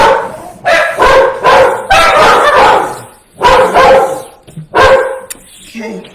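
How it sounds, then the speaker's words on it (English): Several dogs bark in loud repeated bursts close by in a house basement, with short pauses between the volleys. "And there go the dogs."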